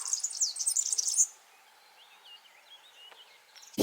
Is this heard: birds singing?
yes